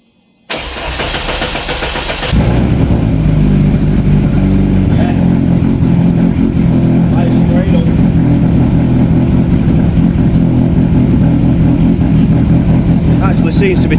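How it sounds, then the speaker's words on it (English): An abandoned rally car's engine cranks briefly, fires up and settles into a steady, loud idle, running continuously close by. "I'm going to turn the ignition on and off a couple of times, let the fuel pressure build its way up, and then fingers crossed, this should just fire up"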